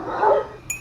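A single dog gives a short bark or yelp in a public place, one brief close burst with a faint higher squeak right after it.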